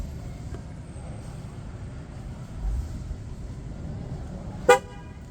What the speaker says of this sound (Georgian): მანქანა მოგცემს ერთ სიგნალს.